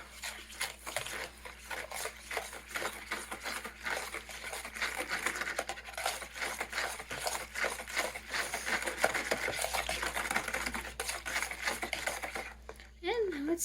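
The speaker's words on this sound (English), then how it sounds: "I'm going to stir it all together to combine" A spoon stirs peanut butter cookie dough with vanilla extract in a bowl, making faint, steady, rapid scraping and ticking sounds that continue for over ten seconds.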